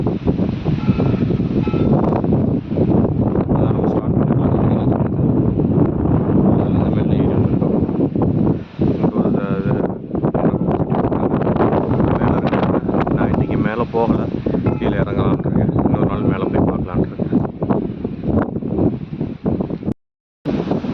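Strong wind roars continuously across the microphone on a mountain top, a dense rushing buffeting that barely lets up, with a brief dropout near the end.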